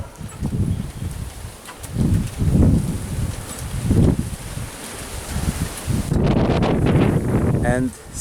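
Strong wind buffets the microphone outdoors in strong sun, heard as loud rushing gusts that swell and fade every couple of seconds, with rustling and a brief higher flutter near the end.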